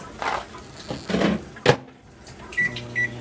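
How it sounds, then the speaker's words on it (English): Frozen vegetables go into a kitchen microwave oven: a few clunks and a door shutting, then a short pair of electronic beeps close by, with no talking. "throw it in the microwave"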